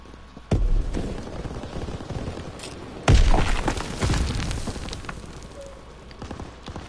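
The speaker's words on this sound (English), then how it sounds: "Tossing grenade!" A grenade blast in a PS4 online shooter game, loud booms with rumbling crackle and distant gunfire around them, two heavy bursts a few seconds apart.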